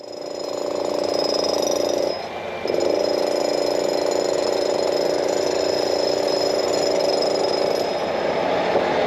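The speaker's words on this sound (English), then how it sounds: "in an attempt to avoid the noise of the jackhammers" Loud, continuous rapid hammering of jackhammers nearby during platform works at Newquay railway station, breaking briefly for a moment before pounding on steadily.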